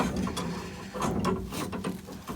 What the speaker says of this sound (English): We'll see if we can do a little bit of tightening up here